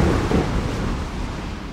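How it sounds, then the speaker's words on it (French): A deep, rumbling thunderstorm sound effect from a French audiobook rolls loud and low for under two seconds, with a dull, booming wash and no speech over it. "On entend des bruits sourds comme s'il y avait un gros orage."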